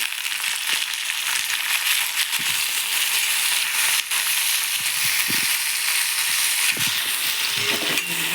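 Onion and tomato sauté in hot oil for a curry leaf chutney, giving a loud, continuous sizzle with occasional scraping and crackling as the pan is stirred, close up and without speech.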